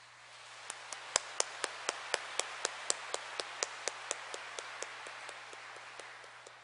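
A congregation claps at a Seoul archdiocese New Year Mass after a priest's bow. The claps are sparse, crisp and evenly spaced in a steady rhythm over a faint low hum, with no talking.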